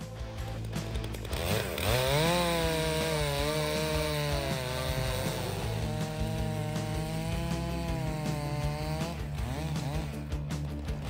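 Stihl MS-661 chainsaw cutting big wood, loud continuous engine whine with pitch rising and falling as the chain bites into the log, sustained for several seconds without talk.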